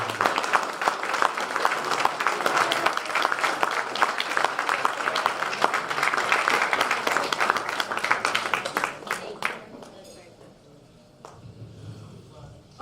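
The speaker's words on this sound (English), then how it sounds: "I want you to applaud these three right here" A crowd applauds three honorees at an anniversary celebration: dense, loud clapping runs steadily for about nine seconds, then thins to a few scattered claps over a quiet room.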